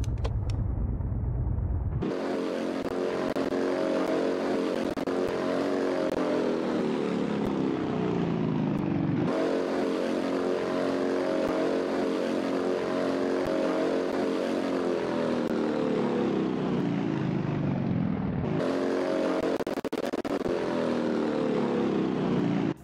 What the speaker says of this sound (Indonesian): Itu ciri khas mobil V8 tuh suaranya merdu guys.